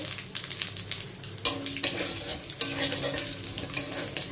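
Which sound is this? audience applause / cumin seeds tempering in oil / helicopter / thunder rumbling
cumin seeds tempering in oil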